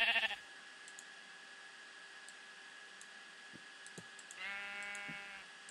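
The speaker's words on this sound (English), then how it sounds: "Kill that sheep." Minecraft sheep in a modded Tekkit world give a bleat, a brief voiced call near the end, over a steady low game background hum with faint clicks.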